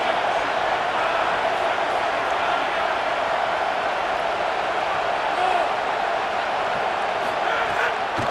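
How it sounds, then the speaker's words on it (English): A large stadium crowd roars steadily in the video game College Football 27, a dense, loud wash of cheering and shouting that holds at an even level throughout, with no talking. "Oh, this crowd wants it."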